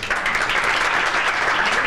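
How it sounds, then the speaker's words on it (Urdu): A studio audience at a Ramzan television transmission claps in steady, dense applause, loud and close throughout the short burst. "یہ لیجئے, تالیاں بجا دیجئے"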